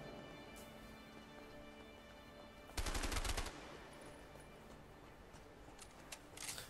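Gunfire in the video game A Way Out: one short, dense burst of rapid automatic shots lasting about half a second, loud against a steady bed of game ambience with faint scattered noises afterward.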